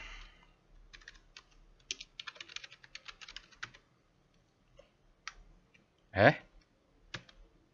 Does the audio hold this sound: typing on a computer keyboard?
yes